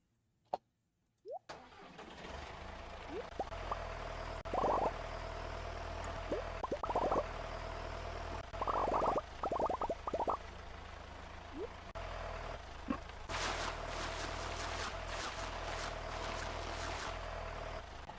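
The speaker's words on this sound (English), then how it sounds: "Let the tractor sound die." A tractor engine in the farming game Stardew Valley runs as a steady low mechanical drone after a brief start-up, with intermittent clicks and chirpy game effects layered over it and a brighter burst of noise near the end.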